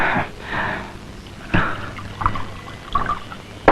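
Liquor is poured into a glass in a few short, gurgling splashes, close up and fairly loud, with faint clinks between pours.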